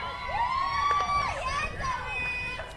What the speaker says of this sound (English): Big crowd in for them, giving them a lot of support.